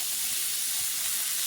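Food browning in a pan for Italian mostaccioli sizzles with a steady, dense, close hiss that holds evenly throughout, with no voices.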